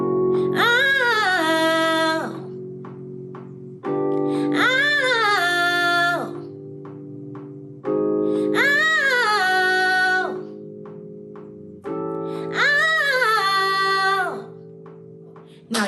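Four repeated sung phrases form a vocal agility exercise of quick riffs and runs. Each fast melodic line is heard over a sustained keyboard chord, with brief pauses between the repetitions.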